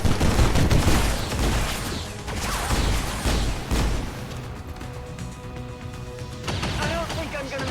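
Turn-based tactics game XCOM 2 with bursts of gunfire and booming impacts, loudest early then easing off into quieter rattling, with voices talking over the action.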